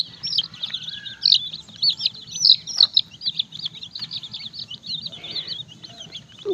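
Desi chicken chicks chirp constantly in a dense, overlapping chorus of high peeping while being fed, close by over a faint low hum.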